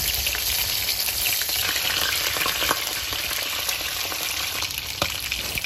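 Fish frying in hot oil in a pan: a dense, steady, close sizzle with sharp crackles and spattering pops throughout, no voices.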